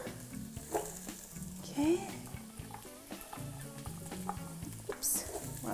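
Onions and carrots fry in a pan with a busy sizzle, stirred with scraping utensil clatter and a few louder knocks, while someone speaks briefly over the cooking.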